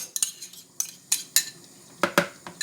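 A spoon scrapes and clinks against a pan while cheddar cheese is stirred into shepherd's pie filling, a series of sharp, irregular metallic knocks and scrapes, close up with no talking.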